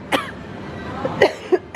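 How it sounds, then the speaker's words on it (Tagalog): Three or four short, close coughs, the first on its own and the rest bunched near the end, over a faint room background. "Ubo ko."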